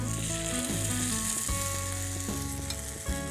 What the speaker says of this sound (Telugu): ఇలా చక్కగా మనం పాత్రలోకి ఈ పిండి వేసేసుకుందాం.